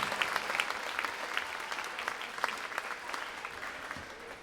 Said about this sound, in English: Let's give them a nice round of applause for all their hard work and dedication.